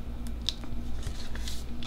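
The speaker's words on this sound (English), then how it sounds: "I just lightly laid that down so I can trim off this excess." Scissors snip through excess paper on a planner page, a few soft crisp cuts close by with a low steady hum beneath and no talking.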